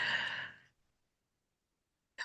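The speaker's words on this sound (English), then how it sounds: "There's my yawn coming." A single breathy yawn, close and soft, fading out, followed by silence and a brief faint click at the end.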